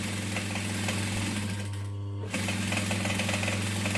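A sewing machine top stitching fabric on a lining, running in a steady fast mechanical rhythm with a short pause before continuing.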